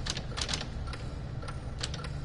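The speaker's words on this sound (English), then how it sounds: "Is it like a self-typing typewriter?" Irregular typewriter key strikes in the Here They Lie VR game, sparse clacks in short bursts over a steady low rumble, moderately faint and not very near.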